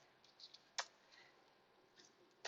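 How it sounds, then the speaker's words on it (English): Tarot cards get a quick shuffle in a few light, sharp flicks and rustles, close but faint in a quiet room, with brief clicks at the start and end, no talk. "Do a quick shuffle there for you."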